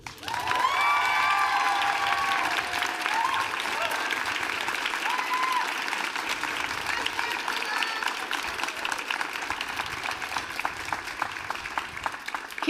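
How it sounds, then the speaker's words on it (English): An audience at a school commencement ceremony breaks into sustained applause, a dense wash of clapping with scattered cheers and shouts that stays strong for several seconds and then slowly thins out. "Let's give them a big round of applause."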